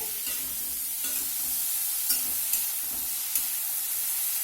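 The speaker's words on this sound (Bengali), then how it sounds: "সুন্দর ভাজা হয়ে যাচ্ছে" Bitter gourd and pumpkin sizzle steadily in a hot pan, with a spatula scraping and stirring every second or so, close up and without voices.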